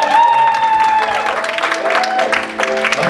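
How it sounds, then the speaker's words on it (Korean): Audience clapping at a church concert, steady and dense throughout, with a sustained musical tone or voice carrying over the applause. "큰 박수입니다"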